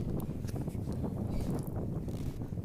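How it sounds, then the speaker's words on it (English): Steady wind noise buffets the microphone on a boat cruising the Rhine Gorge, Germany, a constant low rumble with gusty fluctuations, no voices. "It's a very windy day."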